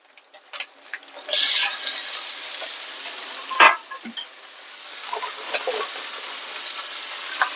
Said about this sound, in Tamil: இப்போ தக்காளி போட்டுக்கலாம். நான் 2 தக்காளி போட்டுருக்கேன் 1/2 கிலோ எறாவுக்கு.